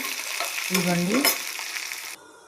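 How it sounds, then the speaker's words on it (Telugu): Ginger sizzles steadily in a hot pan for a hotel-style red chutney, a close, dense crackle with a brief squeaky tone partway through before the sound drops off near the end. "అల్లం అన్నీ కూడా బాగా వేగించుకునండి"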